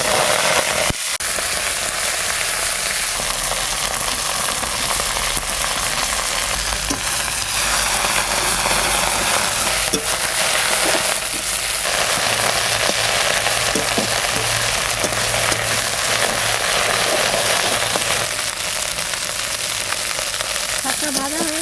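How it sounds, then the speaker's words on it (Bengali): Fenugreek greens fry in mustard oil in a covered wok with a loud, continuous close sizzle and hiss, with a low hum running underneath for much of the time. "এবার শাকটা একটু ভেজে নেব।"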